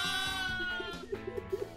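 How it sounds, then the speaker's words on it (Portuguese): Several sheep bleat together in a chorus, with quavering overlapping cries followed by a run of short, rhythmic bleats close by. "O coral de ovelhas."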